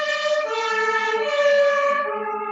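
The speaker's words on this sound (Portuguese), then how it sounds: "Passando a ambulância aqui." An ambulance siren wails loud and clear in a rising-and-falling tone as it passes by, sounding alone without talk over it.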